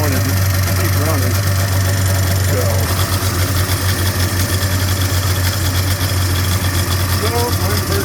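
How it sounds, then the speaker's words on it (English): A 1996 Polaris Classic 500 snowmobile engine idles steadily with a raised idle, a continuous low drone with mechanical vibration throughout, close and loud. "Got the idle up a little bit on it right now"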